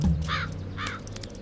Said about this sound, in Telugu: హే, కాకి వచ్చింది.